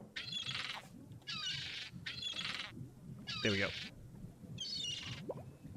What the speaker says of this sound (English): I think that bird will peck my hand off.